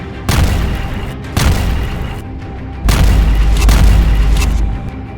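Israeli airstrikes on Hezbollah positions in Lebanon land as several loud, deep booms, each followed by a long rumble. The last blast swells into a sustained roar.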